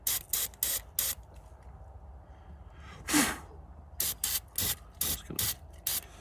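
Short hissing bursts of cleaner sprayed onto a greasy engine part, several quick spurts in a row, a pause with a breathy exhale, then more rapid spray bursts, close and fairly quiet.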